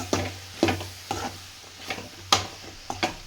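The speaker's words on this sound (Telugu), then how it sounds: "ఇలా అయితే బాగా మిక్స్ చేసుకుందాం" A spoon scrapes through a rice and beans mixture in a pan. The strokes are close and rhythmic, about six sharp scrapes over a low steady hum, with no voices.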